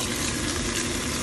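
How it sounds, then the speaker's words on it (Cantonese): Pork chops laid into a wok just used for stir-frying cucumber sizzle in a loud, dense, unbroken hiss over low heat. "炒完青瓜，順便利用個鑊煎埋豬扒，放咗落去先啦"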